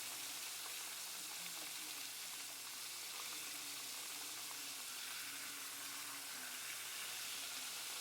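Snapper fries in hot oil with a continuous, fairly quiet broadband sizzle that holds steady throughout and has no voices over it.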